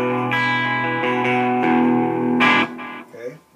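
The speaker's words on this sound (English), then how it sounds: "I'm using a Les Paul into the Marshall Hayes 15 head, 412 cabinet" A Les Paul guitar through a Marshall head and 4x12 cabinet with a big box Rat distortion pedal, playing a dry distorted tone in several sustained chords and notes that ring out, then cut off near the end.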